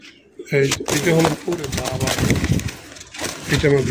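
Racer pigeons cooing in a loft in Dhaka, repeated soft throaty coos up close, heard under someone talking.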